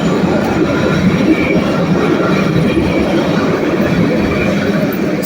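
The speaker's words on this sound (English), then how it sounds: "That's the train." A train rolls past in a city transit setting with a loud, steady rumble and rattle of wheels on rails, continuous throughout without a break.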